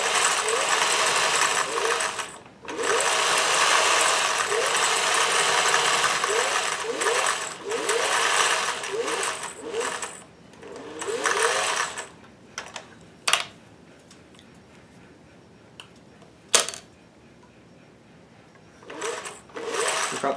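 A sewing machine stitches a vintage embroidery sampler in steady, close bursts of rapid needle chatter, stopping briefly for turns and pivots, with a few sharp clicks and pauses toward the end.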